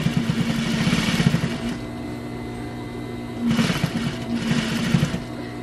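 A sewing machine back-stitches across a fabric hot pad, giving two bursts of rapid, close mechanical whirring and clatter separated by a brief lull, with no talk.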